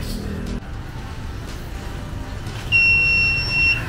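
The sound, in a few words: timer alarm going off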